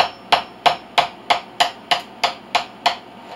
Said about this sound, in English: I've got my knife, and I'm just going to put it here on this line and hammer it down in there